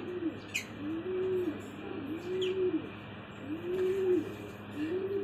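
Racing pigeons coo nearby in a loft, soft rolling calls repeating about every second in a steady rhythm. Faint chirps and light background noise sit behind them, and no one talks.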